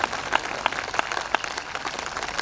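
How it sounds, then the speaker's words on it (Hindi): A Hindi comedy poetry show audience claps continuously. A sustained wash of applause has sharper individual claps popping out at intervals, with no voices over it. "तालियां मत कमजोर करो।"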